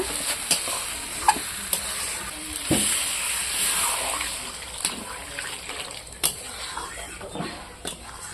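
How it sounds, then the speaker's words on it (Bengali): Water is poured into chicken curry cooking in a pot, making a rushing splash and hiss over steady sizzling, with scattered clinks of stirring close by. "জল ঢেলে দিলাম কিছুক্ষণ জাল দেওয়া হবে"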